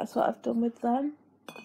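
A glass jar gives a short, bright clink near the end, right after a person speaks a brief sentence close to the microphone.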